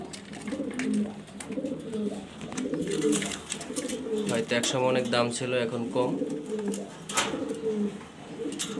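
A pair of Jharna satin fancy pigeons cooing in rolling, repeated low phrases among other birds, while someone talks over them.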